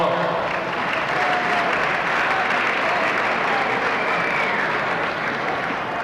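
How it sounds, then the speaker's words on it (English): An audience at a 1996 75th anniversary party for the Royal Oak community applauds in a dense, steady wash of clapping that holds evenly for several seconds with no gaps. "one more round of applause for all the people that I mentioned"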